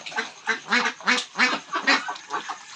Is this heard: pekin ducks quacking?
yes